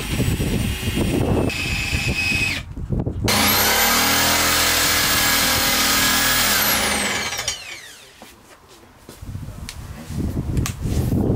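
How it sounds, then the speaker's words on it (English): A power drill bores a hole through the floor of a Peugeot Boxer L2H2 van during a campervan conversion. A loud, steady whine holds for several seconds between rougher handling noise, then it winds down and quiets. "I need to make like a bit of a hole."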